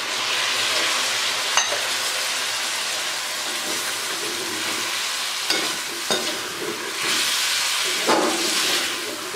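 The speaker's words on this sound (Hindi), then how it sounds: "चम्मच मैंने चला दिया है" A spoon stirs chicken biryani in a cooking pot, scraping and clinking in a few distinct strokes over a steady sizzling hiss of frying, close and fairly loud.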